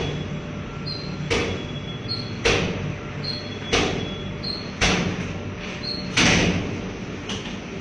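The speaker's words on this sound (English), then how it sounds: "the door to the basement started to open and close on its own" A basement door repeatedly swings and bangs, with six sharp thuds spaced about a second apart, loud and close over a steady room hum.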